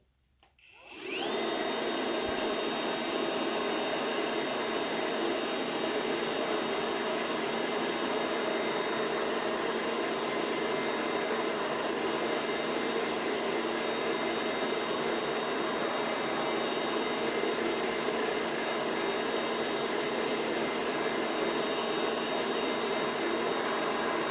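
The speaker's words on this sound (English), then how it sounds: "Okay, so I'm just gonna blow dry the inside." A hair dryer switches on and blows steadily to dry the inside of a glued toupee, a loud, even whooshing roar with a faint high whine that holds unchanged after the initial start-up.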